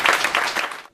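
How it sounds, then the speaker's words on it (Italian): Applause from an audience at a local Tigullio event honoring a family, steady dense clapping for under a second before cutting off abruptly. "un applauso anche a loro."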